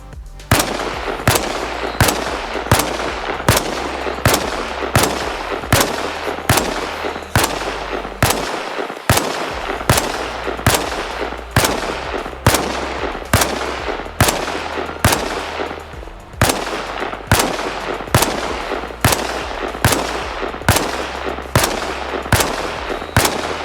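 Rifle fire aimed at a vehicle in the video game Arma Reforger: a long series of sharp single gunshots at a steady, roughly one-per-second rhythm, loud and close, with a brief pause partway through.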